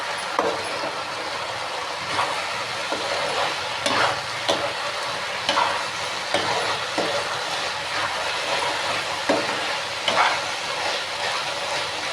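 Fenugreek leaves, amaranth greens and okra fry lightly in a pan, giving a steady broadband sizzle with sharp spatula scrapes and clicks spaced irregularly throughout, with no talking.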